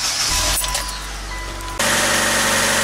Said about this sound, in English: on a stone cold engine, start the car.